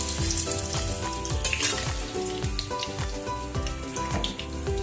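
Salted potato pieces fry in hot oil for a crab curry, a close, busy crackling sizzle that pops and spits continuously without any voices.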